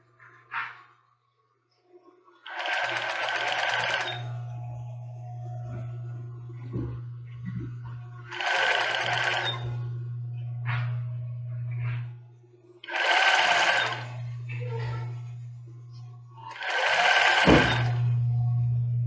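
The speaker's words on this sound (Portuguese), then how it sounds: "já começa a costurar" A sewing machine stitches a children's bra in four loud, close bursts separated by short pauses, with a steady low motor hum running underneath.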